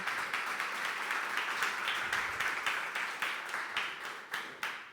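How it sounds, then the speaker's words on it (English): Applause for a speaker walking on stage at a Python and AI talk event. An audience claps fairly faint and even at first, thinning toward the end into a few separate, distinct claps. "Big round of applause."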